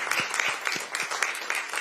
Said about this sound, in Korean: 그동안 고생하셨으니까 박수 한번 부탁드립니다